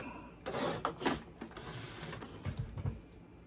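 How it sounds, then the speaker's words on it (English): A sewing machine stitches the two ends of a crash bag together. The mechanism runs close and fairly loud in short bursts, then gives a few softer clicks near the end. "I'm going to sew these two ends together real quick here."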